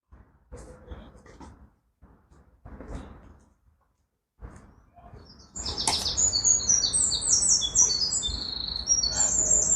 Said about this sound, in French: Oh, on entend les oiseaux.